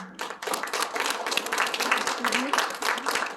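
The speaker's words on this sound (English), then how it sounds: "Let us give a big round of applause to our students who have successfully completed their Kathak PP1 examination." Audience applause at a Kathak certification ceremony, a short burst of lively clapping from a small crowd, close and continuous.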